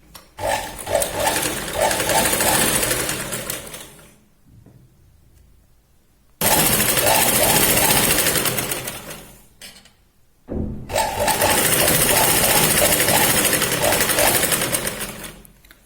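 A sewing machine runs in three long bursts of stitching along the edge of a katori blouse lining, close and loud, with short near-silent pauses between runs.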